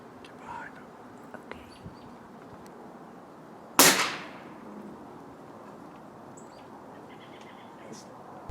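A single sharp crack from an Umarex Gauntlet air rifle fired outdoors from a deck rail at a squirrel, with a quick decay into quiet ambient background and faint birds.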